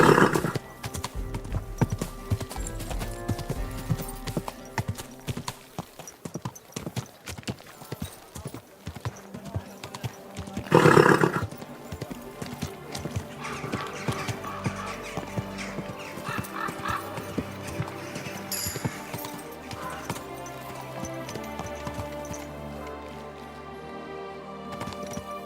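Horse hooves clip-clop steadily in the medieval open-world game Kingdom Come: Deliverance II, a rhythmic trot with a whinny partway through, set against game music and someone talking over it.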